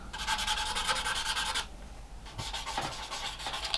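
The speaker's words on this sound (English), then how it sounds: "Now I'm coming in with a sort of a finer sanding stick just to finish that off." A sponge sanding stick rubs across a plastic AMT USS Enterprise NCC-1701-E 1/2500 scale model kit, giving close, rapid back-and-forth rasping strokes that pause briefly midway and then resume.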